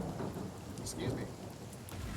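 A magic rain spell in the video game Divinity Original Sin brings a soft, steady wash of rain with low thunder rumbling beneath it, brief and fairly quiet.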